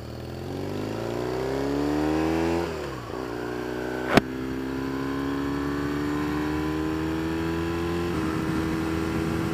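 A 2012 Triumph Thruxton motorcycle engine revving up, dropping back, then holding a steady rising drone, with one sharp click partway through and no talk.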